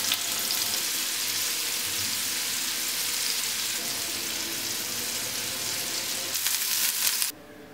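Fish fillets for Kerala fish pickle sizzle steadily in hot oil, a dense continuous crackle throughout that cuts off abruptly near the end, leaving a quieter hiss.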